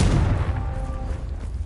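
A Confringo fire spell blasts in Hogwarts Legacy, giving a loud, booming burst with a thick low rumble that trails off over a second and a half.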